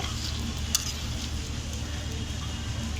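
Chicken meat frying in oil with ginger and garlic gives a steady, low-level sizzle and crackle, continuous and close, with one brief clink of a utensil.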